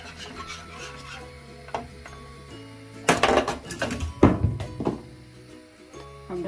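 A spoon stirs rice kheer in a pot over low heat, scraping and rubbing against the metal in bursts of quick rasping strokes that grow louder midway, close up with no talking.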